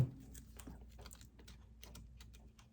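Scissors trim a small piece of paper at a craft table, a few faint, soft snipping clicks spaced out over a quiet background.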